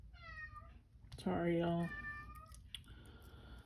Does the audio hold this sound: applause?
no